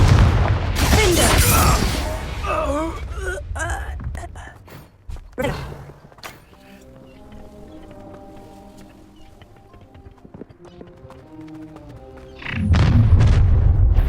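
Confringo fire spell blasts during a boss fight in the Hogwarts Legacy video game: loud booming explosions at the start and end with a quieter stretch of music between, a voice shouting over the action.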